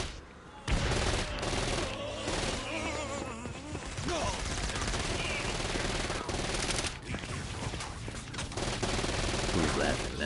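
Heavy gunfire from the Saints Row: Gat out of Hell video game, sustained bursts of automatic and rapid shots filling the clip loudly, with a voice briefly heard amid the game's dense combat sounds.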